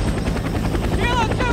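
A military helicopter at an evacuation landing zone in Laos, its rotors beating in a loud, steady, rhythmic thump that continues throughout.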